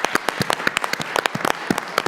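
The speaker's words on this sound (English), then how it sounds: "I'm giving you a round of applause for this" A small group applauds elections department staff at a government meeting, with sparse, distinct individual claps close by over about two seconds.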